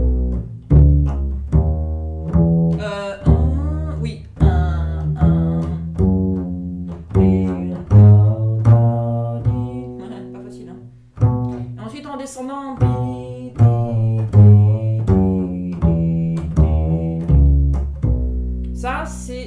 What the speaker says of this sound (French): Ça, c'est le son de la gamme de si majeur quand on met des in-between notes.